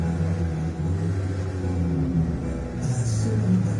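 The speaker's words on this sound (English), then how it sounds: "that's a noisy engine. What a noisy engine." Noisy car engine from the Gran Turismo Sport video game, a steady low rumbling drone that swells slightly as it revs, heard alone without talk.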